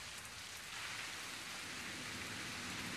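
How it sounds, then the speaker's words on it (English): Steady rain in the Ruinsmagus VR game, a soft, even hiss of falling drops that swells slightly after the first moment and stays constant, with no voices. "It's still raining and it will never end."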